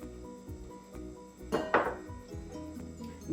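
Mayonnaise and garlic dressing is stirred in a bowl, with clinks and scrapes of a utensil against the dish, one louder clattering knock near the middle, and quiet tonal background sound beneath.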